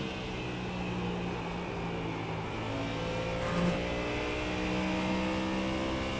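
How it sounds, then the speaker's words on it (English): A race car in the iRacing sim at Spa, its engine droning steadily with layered harmonic tones and a brief swell as the tyres slide through a corner, continuous and fairly close, with no talking. "Definitely sliding the car on that corner."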